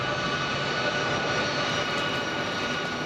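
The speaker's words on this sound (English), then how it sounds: "the RAF's biggest and fastest long-range cargo aircraft" An RAF C-17 long-range cargo jet at an airbase gives off a steady, loud, broadband engine roar that stays constant throughout, with no talking.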